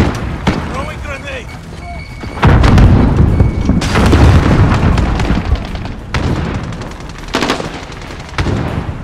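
Grenade blast in Call of Duty Modern Warfare team deathmatch gameplay, a loud boom landing amid ongoing gunfire and battle noise, followed by further bursts and explosions.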